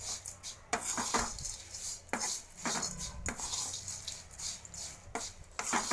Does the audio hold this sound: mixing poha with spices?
yes